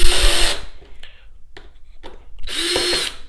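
A power drill drives screws into a Honda CR-V armrest during a vinyl replacement, in two loud whirring bursts with a quiet pause between them.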